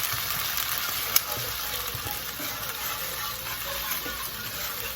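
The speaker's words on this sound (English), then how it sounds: "now I'm going to deglaze the pan with about 1/2 cup of white wine" White wine poured into a hot pan of chicken and onions to deglaze it, giving a steady, close sizzle and bubbling hiss that holds evenly throughout, with one faint clink partway in and no speech.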